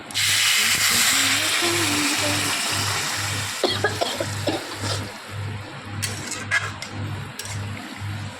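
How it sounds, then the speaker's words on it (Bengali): Water is poured into a hot pan of roasted broken wheat, giving a loud, dense sizzling hiss that settles into steady bubbling with a few clinks, under a low steady hum. "এবার জলটা দিয়ে দেই"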